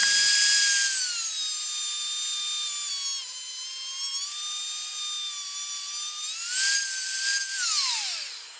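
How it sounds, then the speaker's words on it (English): Angle grinder cutting a steel front motor mount reinforcement on a WR250 motorcycle, a close, loud steady high whine that sags under load, rises again near the end and then spins down. "I'm just going to get the grinder and cut it or something"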